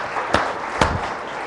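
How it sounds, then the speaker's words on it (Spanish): A congregation at a Spanish-language church service claps to give praise to God: two sharp, distinct claps about half a second apart rise over a steady, noisy room hum, with no talking. "¿Cuántos le dan un aplauso a Dios en este día?"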